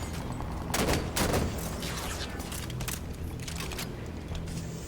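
Rapid gunfire from Halo 5: Guardians, a cluster of sharp shots early on followed by scattered pops and steady game ambience at moderate volume.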